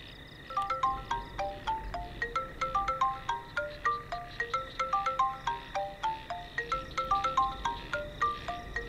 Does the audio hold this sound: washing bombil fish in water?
no